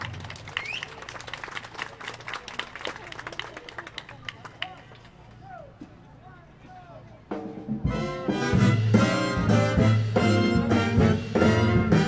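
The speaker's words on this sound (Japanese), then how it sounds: "大きな拍手をお願いいたします" Audience applause at an outdoor family festival in Nerima builds from scattered clapping amid crowd chatter, followed by a big band jazz ensemble striking up loudly with brass and drums.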